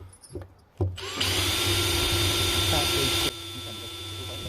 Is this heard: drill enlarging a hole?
yes